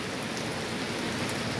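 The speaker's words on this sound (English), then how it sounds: "I didn't think we were going to get this much rain." Heavy rain pours down steadily during an evening storm, making a constant close hiss and patter on surfaces with no talking.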